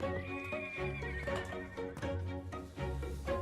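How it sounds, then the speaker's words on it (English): Horses neigh and whinny repeatedly over a steady clip-clop of hooves, loud and close, continuing throughout with no speech. "Look at the horses."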